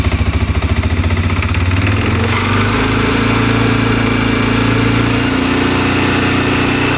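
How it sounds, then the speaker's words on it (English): CFMoto CForce 500 ATV fitted with a stage 2 clutch kit, its engine chugging at idle and then revving up into a steady, loud, sustained drone close by, with no one talking. "So as I engage the throttle, you'll see the primary move in, and the belt will engage."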